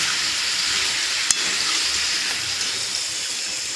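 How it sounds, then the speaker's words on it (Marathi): Store-bought rice papads fry in hot oil with a steady, loud, bright sizzle and hiss that runs unbroken throughout, with a single sharp crackle near the start. "ह्याच्यात पापड तळून घ्यायचे आहेत आपल्याला."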